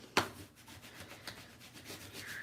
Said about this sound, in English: rubbing it with the bone folder so that it is really well adhered